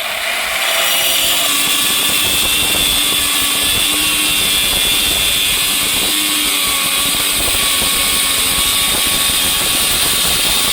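A power cutter grinds through hard nano white granite stone with a loud, continuous high-pitched whine and gritty rasp, holding steady and close for the whole stretch.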